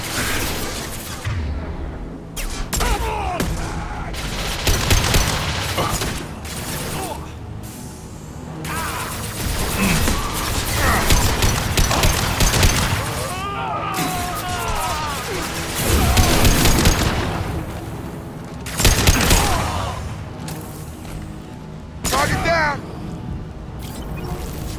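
Gunfire in Mass Effect Legendary Edition comes in repeated loud bursts and volleys spread over a long firefight, mixed with shouting voices and combat noise.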